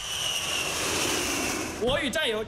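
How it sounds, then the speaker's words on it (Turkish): Fighter and bomber aircraft taking off and landing at a Chinese military airbase, a steady loud jet roar that ends abruptly, followed by someone speaking briefly. "Erken uyarı, avcı ve bombardıman uçakları bir iniyor bir kalkıyor."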